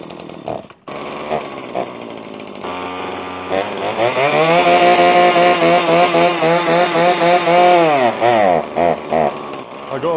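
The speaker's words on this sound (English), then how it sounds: "little Husqvarna combi tool" A small two-stroke engine on a Husqvarna combi tool sputters, then revs up into a loud, high buzzing whine that rises and falls before easing off, close by.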